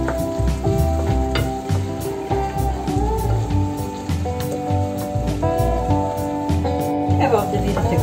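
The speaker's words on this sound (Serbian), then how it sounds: "I sada pržimo luk dok nam ne omekša skroz." Onion frying in lard in a pan, a continuous sizzle sitting under strong tonal background music, with brief clinks and stirring sounds, close and fairly loud throughout.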